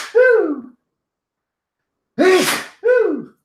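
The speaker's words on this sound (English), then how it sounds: "Hold on, I got to sneeze." Three loud, close human sneezes: a single sneeze, a pause, then two in quick succession, each with a sharp breathy burst.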